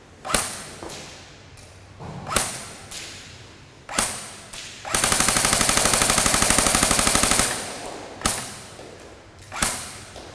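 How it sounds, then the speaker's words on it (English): A pneumatic air gun test-fired on an indoor factory range: single sharp cracks spaced about a second and a half apart, then a sustained rapid burst of quick reports lasting a few seconds, then single shots again, loud and close. "We also test BB and pellet guns on this range. Have a look while the inspector checks for grouping and sight-in on this pneumatic gun."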